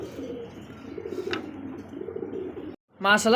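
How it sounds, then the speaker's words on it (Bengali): Chocolate racer pigeons coo in a low, throaty, repeating rumble, close by in a pigeon market, with a brief break near the end before a voice cuts in. "দেখতে পাচ্ছেন চমৎকার আরো এক জোড়া চকো রেসার কবুতর"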